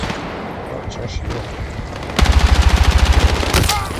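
Rapid automatic gunfire in the video game Battlefield 6, a loud fast burst of repeated shots that starts partway through after quieter game noise, with a person talking.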